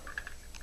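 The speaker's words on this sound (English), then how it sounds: "You hear the click. It did its job. No ammo." Dry-fired bolt of a RAP4 Lok Bolt paintball marker with no ammo, producing a couple of faint, close mechanical clicks in quick succession over a quiet background.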